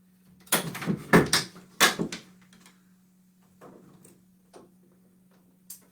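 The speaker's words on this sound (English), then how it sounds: "So I'm going to shut these doors so we can see him." Doors on a snake enclosure swing shut nearby with a quick run of wooden knocks and clicks. A steady low electrical hum runs underneath, followed by a few faint taps.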